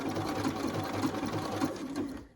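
Sewing machine stitching through felt with multicolor thread, running steadily forward after a short reverse to reinforce the seam, a close, continuous motor whir with rapid needle ticking throughout.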